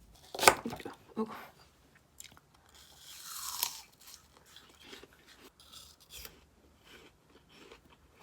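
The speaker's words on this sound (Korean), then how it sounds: "아이유 다이어트 1일차 찜 사과 반 개입니다. 물이랑 같이 먹을게요." Half a steamed apple being eaten, with a sharp crunchy bite near the start followed by softer, scattered chewing and rubbing sounds, close and fairly quiet, with no talking.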